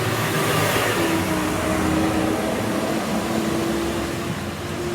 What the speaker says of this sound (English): we live on a quite busy road, so there's going to be traffic noise